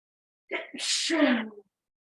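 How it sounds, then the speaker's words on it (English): A single sharp sneeze, close and fairly loud, with a quick intake of breath before the burst, then silence. "That's the sneezing."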